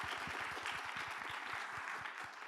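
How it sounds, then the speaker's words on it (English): An audience at a conference discussion breaks into dense, steady applause, many hands clapping together at an even level throughout, with no one speaking. "Can we give that a round of applause?"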